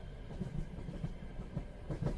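A train passenger car rolls along rails in a video game, a steady low rumble with soft rhythmic clickety-clack beats from the wheels, with no voices.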